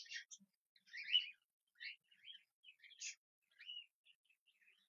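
Cockatiels mating, giving a series of short, high chirps and tweets in brief bursts, close and fairly quiet, with no other sounds.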